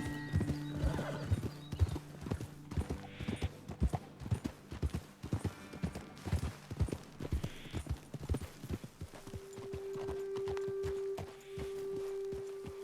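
Horses ridden in Red Dead Redemption 2, their hooves clip-clopping in a brisk, uneven rhythm, with snorts and a whinny, loud and close, fading into a steady hum near the end.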